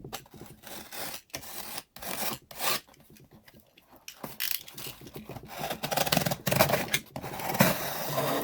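A cardboard keyboard box being cut open, with rasping, scraping blade strokes in short bursts separated by brief pauses, then steadier rustling toward the end, close up with no talking.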